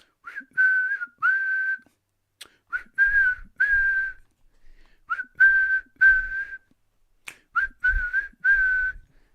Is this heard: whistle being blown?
yes